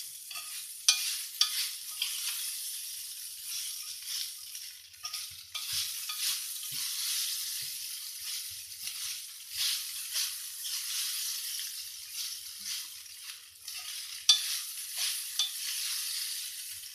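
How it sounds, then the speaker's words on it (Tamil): Aval upma made from flattened rice is stirred as it fries on a low flame, with a gentle continuous hiss and soft, frequent scraping strokes throughout, fairly quiet and unaccompanied. "சின்னதிலே வச்சு கலரிட்டே இருக்கணும்."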